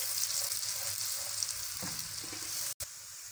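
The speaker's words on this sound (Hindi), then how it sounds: "अब हम इसके अंदर प्याज ऐड करेंगे और इसको थोड़ी देर फ्राई करेंगे" Onion fries in hot oil in a kadai for dal methi, giving a steady, close hiss of sizzling with faint stirring crackles and a brief dropout near the end.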